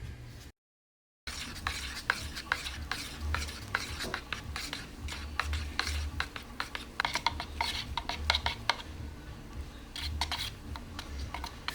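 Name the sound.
stirring metallic pigments into epoxy resin part B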